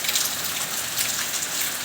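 Monsoon rain pours down in a dense, even hiss of drops striking surfaces, close and steady, with no voices.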